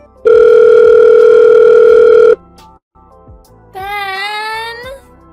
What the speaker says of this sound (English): Why don't you pick up your phone? I called you so many times, but you never answer.